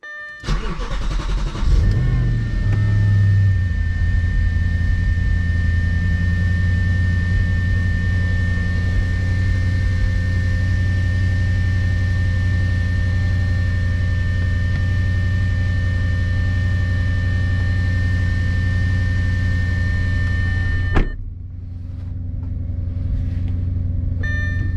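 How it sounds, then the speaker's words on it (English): Audi RS4 engine after sitting overnight, cold-starting and then holding a steady high idle around 1200 RPM, a loud, close, continuous drone with a sudden change near the end as the level drops and settles. "Cold start holds it about 1200 RPM until it gets up to a little bit warmer than freezing cold."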